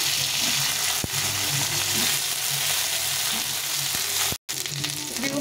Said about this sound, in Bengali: বেগুনটা একটু ভাজা ভাজা হয়ে গেছে।